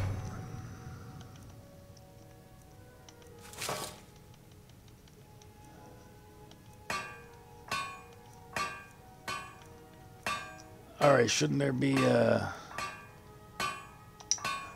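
Hammer strikes on an object at a crafting station in Skyrim Special Edition, a regular series of sharp metallic clinks at roughly one-second intervals after a brief clatter, with someone speaking briefly early on.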